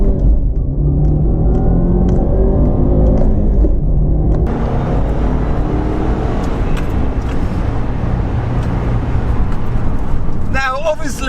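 A Subaru Impreza WRX S Prodrive drives along with a loud, steady engine rumble and road noise heard from inside the car, the tone shifting as it pulls away, with someone talking over it.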